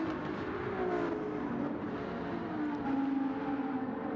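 Race cars in the GT3 racing video game, with several engines whining and droning together in a steady, continuous rush, pitches sliding as the cars come through toward the first turn.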